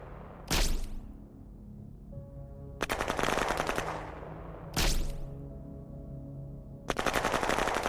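Gunfire from the strategy game Shadow Empire with its Republica DLC: four sharp, loud bursts of automatic weapon fire come one after another, each followed by a ringing tail. No one speaks.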